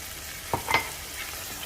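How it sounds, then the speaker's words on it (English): Marinara sauce hitting a hot pan for rosé pasta, giving a short sizzle with a couple of quick splashy bursts and a stirring scrape, then a low steady frying hiss. "Now I'm going in with my marinara sauce."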